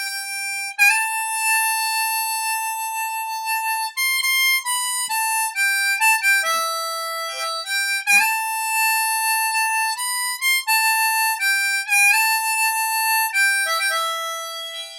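Harmonica plays the second solo of a song, a clean, bright run of sustained single notes and short bends, steady and close, with no voices.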